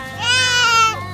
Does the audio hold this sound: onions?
no